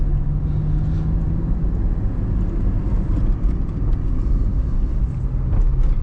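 A Daewoo Lanos 1.5 drives along a road, its engine a steady low rumble with tire and road noise filling the cabin, heard from inside, no talking.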